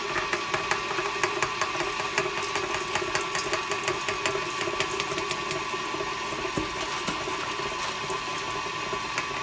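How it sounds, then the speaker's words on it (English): An electric mixer runs steadily while churning dry ice ice cream, a continuous buzzing motor whir with rapid rhythmic ticking, close and without talk. "so then to freeze it, we'll turn on this mixer"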